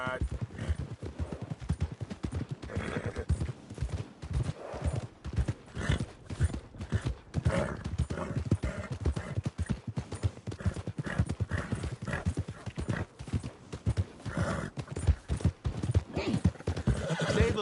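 A horse in the Red Dead Redemption 2 video game clops along in a steady, rapid hoofbeat rhythm and gives a loud whinny, with voices talking over the trotting.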